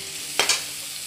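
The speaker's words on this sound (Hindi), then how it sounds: "प्याज को अच्छी तरह भून लूँगी।" Onion for Maggi noodles fries in a pan with a steady soft sizzle, broken by two quick stirring scrapes close by; no one speaks.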